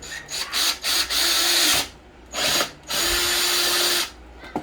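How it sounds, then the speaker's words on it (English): A power drill bores holes in a plastic Kawasaki Ninja 400 airbox, whirring in several bursts, spinning up, running steadily, then stopping, close and loud, with short pauses between runs. "Make sure you're holding onto that airbox nice and firm when you're drilling."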